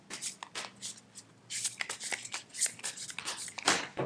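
Tarot cards being shuffled by hand, a dense run of crisp riffling and slapping bursts with brief pauses, close and fairly loud, with no talking.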